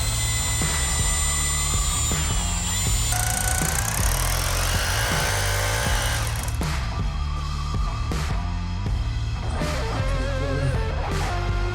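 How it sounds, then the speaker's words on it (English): A power drill whines steadily and loudly, boring a hole into a floor, with its pitch shifting as it bores in and pauses. "Let's go ahead and drill a hole in our brand new floor."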